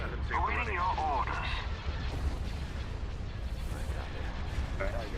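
Star Destroyer laser cannons fire in a space strategy game, booming artillery-like blasts rumbling under a synthetic radio voice speaking over the barrage.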